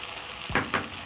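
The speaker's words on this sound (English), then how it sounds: "Then I'm going to stir my rice in." A spoon stirs rice into beef in a single pot, giving two short scraping, sizzling swishes close up over a quiet steady background, with no talking.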